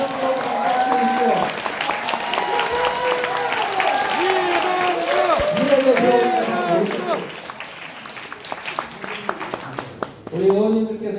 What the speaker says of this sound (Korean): 이동주 의원님 박수 주십시오.